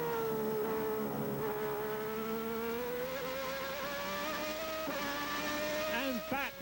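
Onboard engine note of a 1990 Formula 1 car lapping Hockenheim, a loud, continuous high-pitched whine that rises and falls smoothly with throttle, with a few quick revving blips near the end.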